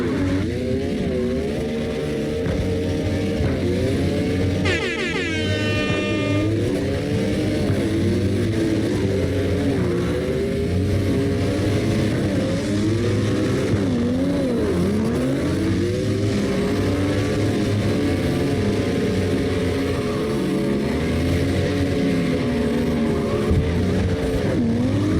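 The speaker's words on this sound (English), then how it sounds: "Got one of the dopest BMWs in here. And he ain't scared to slide that." Simulated engine of a BMW drifting in CarX Drift Racing Online, a steady loud revving drone with wavering pitch as the car slides, continuous for the whole stretch with a brief high squeal near the start.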